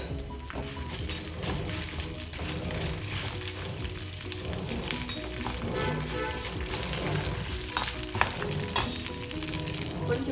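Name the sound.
dried red chilies frying in oil with toor dal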